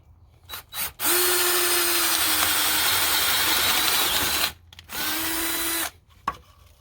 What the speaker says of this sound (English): and then I drilled through